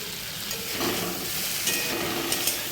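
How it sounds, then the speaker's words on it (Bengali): Fried prawns are stirred into sizzling spices for an elephant-foot yam and taro curry, giving a loud, dense hiss with light scraping from stirring all the way through. "ভালো করে মশলাটা মিশিয়ে দেবি এবার দিয়ে দিচ্ছি ভাজা চিনি মাছটা"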